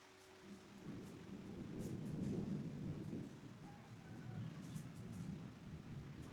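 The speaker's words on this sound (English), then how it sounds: "As the rain began to fall" Steady rain falls while low, rumbling thunder rolls on and swells in the background, quiet and continuous throughout.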